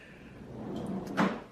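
A short wooden scrape and clunk as a drawer slides and shuts nearby, a single quiet movement.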